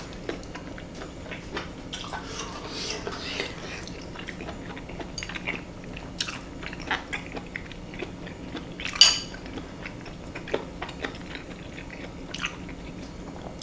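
Grilled Korean-style beef tripe being chewed, a quiet, steady run of soft squishy bites and mastication with faint utensil clinks and one sharper click partway through, close and without talk.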